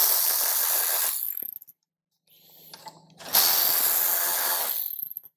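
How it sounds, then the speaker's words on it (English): A ratchet tightens bolts on a 2021-or-later Harley-Davidson CVO during an audio upgrade: close, loud bursts of rapid clicking ratcheting, separated by a gap with softer mechanical handling in between. "Now you want to start all four of these bolts before you tighten them down."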